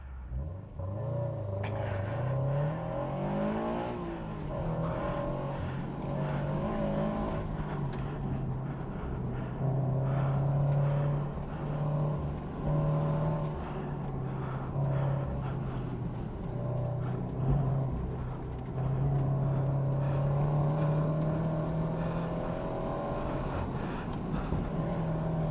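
Car running laps on a race track with adjusted coilover shock damping, a continuous engine drone that rises and falls through gear changes, heard from inside the car at moderate level with no talking.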